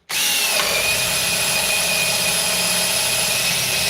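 A Parkside power drill set to drill mode runs steadily at speed 2, a loud continuous whine starting abruptly and holding an even pitch throughout with no pauses.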